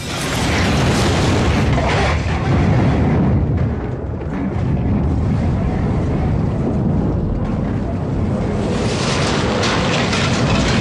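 Bomb explosions aboard a warship sound as heavy, loud booming rumbles with dense roaring noise that surges, dips briefly, then swells again, with no voices.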